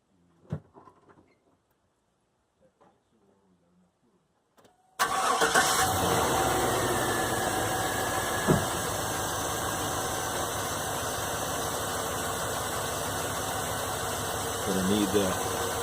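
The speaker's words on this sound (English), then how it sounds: "make sure that you start your truck and run it" A truck engine cranks and fires after several seconds of near silence, then settles into a steady, fairly loud idle with a faint knock, during a heater core hose repair.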